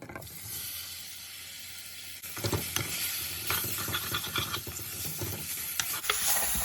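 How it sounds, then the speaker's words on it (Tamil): Pineapple pieces for a spicy Sri Lankan curry hit a hot pan, a steady sizzle and hiss with scraping stirs growing louder after the fruit drops in, close and without speech. "இப்போ இதுக்குள்ளே நான் பழம் போடுறேன்"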